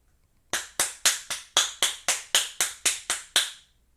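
Twelve crisp, evenly spaced claps tick like a metronome during drum practice, each sharp and close with a quick decay, steady in tempo and heard alone without talk.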